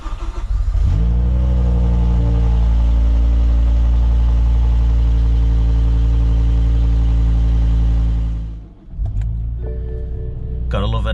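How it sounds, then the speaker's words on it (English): A BMW E60 M5 with the S85 V10 fires up from cold, a sharp flare of revs settling into a loud, steady high idle that dips briefly near the end before catching again. "Gotta love an S85 cold start, eh?"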